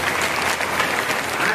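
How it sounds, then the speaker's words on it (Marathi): Audience applause at a harikirtan in Devgaon Rangari, a dense, steady clapping of a large crowd heard throughout at close range and with no voice over it. "त्याच्याकरता टाळ्या वाजवायला"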